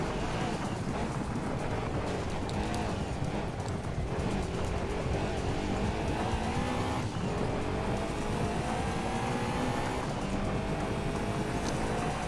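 A Lancia Stratos rally car in Gran Turismo 2 drives flat out on a loose rally stage, its engine droning steadily with rising and falling pitch over constant gravel rush, a voice talking faintly beneath.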